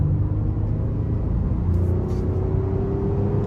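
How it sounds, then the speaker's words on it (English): A 2023 Honda Pilot Touring's 3.5-litre V6 AWD engine pulls under light throttle, a steady close low rumble and drone heard from inside the cabin with no talking. "we're not gonna floor, we're just gonna give it a little bit of throttle here."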